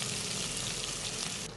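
Sliced onions frying with cinnamon, bay leaf, cardamom and cloves for a mutton white biryani, a steady close sizzle with no voices that drops slightly at the very end.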